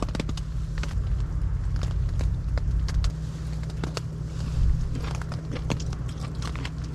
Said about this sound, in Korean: 해삼도 정말 맛있게 먹고 미역도 맛있게 먹고